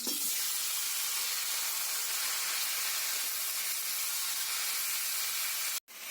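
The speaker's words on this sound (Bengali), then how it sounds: "2-3টে কাঁচা লঙ্কা দিয়ে তেলের মধ্যে দিয়ে ভেজে নেব।" Nigella seeds and two or three green chillies fry in hot oil with a bright, steady hiss and sizzle, close and even throughout, with a short dropout just before the end.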